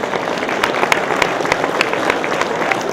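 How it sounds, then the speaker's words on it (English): Audience applause for Dr. Patel closing a Cannabis 101 talk: dense, steady clapping from a crowd filling the whole stretch at an even level, with scattered sharper claps standing out. "we can get a round of applause for Dr. Patel."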